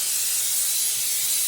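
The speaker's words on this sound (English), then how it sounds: "I'm just going to spray it really good with this butter spray" Butter-flavored cooking spray hissing from an aerosol can into a 9x13 baking dish, a loud, steady, close spray lasting the whole moment with no talk over it.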